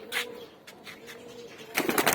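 Domestic pigeons coo at home in a loft, with soft low calls and a few wing flutters or rustles, the loudest burst near the end, close by and otherwise quiet.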